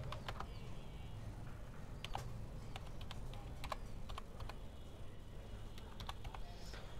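Keys tapping on a computer keyboard while an email is typed, irregular clicks and short bursts running steadily over a low background hum.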